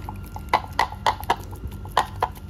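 Cream cheese and sweetened condensed milk are beaten by hand in a bowl without a mixer, giving a series of close, sharp clicking taps at an irregular rhythm over a low background hum.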